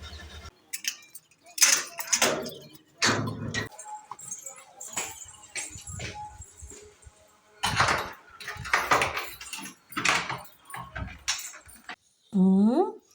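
Keys jingle and rattle as someone unlocks and opens a house door, in scattered bursts mixed with talking voices nearby.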